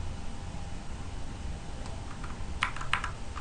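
Quiet keystrokes on a computer keyboard, a few light clicks and a firmer double tap like pressing enter, near and isolated over faint background hiss.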